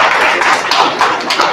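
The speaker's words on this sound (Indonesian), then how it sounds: "Tepuk tangan untuk Banjarjo." Applause breaks out from a congregation at a mosque gathering, a dense, steady patter of many hands clapping close by, filling the short moment without a break.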